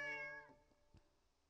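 A single cat meow from the video game A Tower Full of Cats, a clear harmonic cry lasting about half a second, followed by a couple of faint soft clicks.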